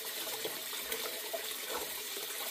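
Rice is rinsed under running tap water in a kitchen sink, a soft steady trickle and splash with a few small sloshing bumps, faint and close, with no talking.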